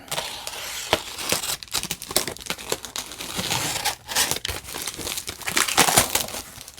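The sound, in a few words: unwrapping big bubble wrap packaging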